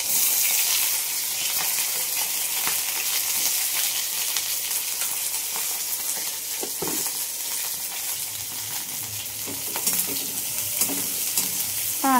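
Onion frying in a pan with garlic for spicy Maharashtrian brinjal bharit, a steady close sizzle with occasional stirring scrapes running throughout, no talking.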